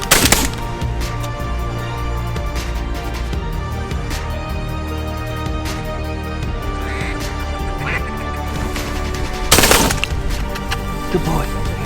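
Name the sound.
shotgun shots at ducks while duck hunting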